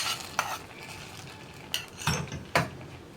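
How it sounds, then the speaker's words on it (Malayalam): Rice payasam with caramel being stirred in a pot, a few soft scraping strokes and light clinks of a spoon against the metal, close and fairly quiet with no talk. "ഇനി നന്നായിട്ടൊന്ന് ഇളക്കി മിക്സ് ചെയ്തെടുക്കണം"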